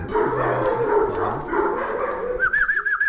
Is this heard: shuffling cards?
no